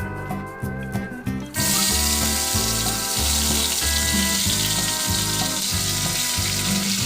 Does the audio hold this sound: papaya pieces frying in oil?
yes